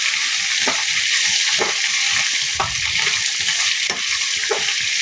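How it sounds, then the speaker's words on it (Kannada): Lemon rice ingredients, including green chilies and turmeric, fry in a pan with a steady, close sizzle and occasional stirring scrapes throughout. "ಅದು ಚೆನ್ನಾಗಿ ಫ್ರೈ ಆಗ್ತಾಯಿದೆ."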